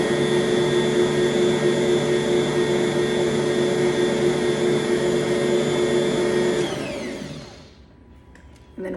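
An electric mixer whirs steadily through pumpkin muffin batter with cinnamon and nutmeg, a loud, even motor drone that winds down and stops near the end, with no talking.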